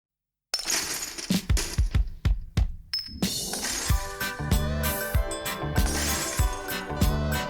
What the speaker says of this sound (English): The last thing I ever expected was to hear like cracked and shattering glass like spilling all over the place on this track